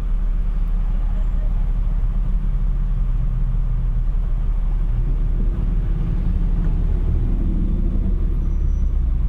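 Congested city street traffic near a street protest, a steady low engine rumble from cars and buses idling and creeping, continuous and fairly loud, with faint voices mixed into the background.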